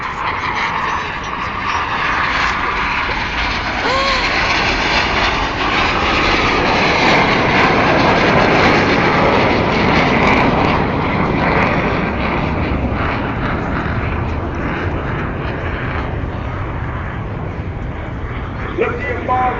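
Red Arrows jets perform barrel rolls at the Bournemouth Air Festival, a continuous loud roaring wash of engine noise that swells and fades as the aircraft pass, with a commentator talking over it throughout.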